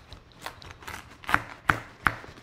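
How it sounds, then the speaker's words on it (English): A sharp knife chopping through a spaghetti squash, cutting it in half from the middle: three crisp, evenly spaced cuts ring out close by over light knocking, with no talking. "All you have to do is cut it in half. So start in the middle with a sharp knife"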